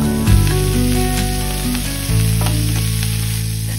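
Cauliflower florets frying in oil for a Bengali bhola fish curry with potato, a loud crackling sizzle under steady background music, with sharp pops near the start and midway.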